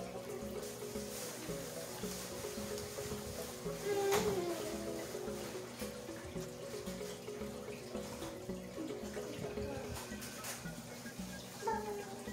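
Water trickles steadily through a drip line into a bucket holding newly acclimated fish. The flow is continuous and moderate, with faint background sounds.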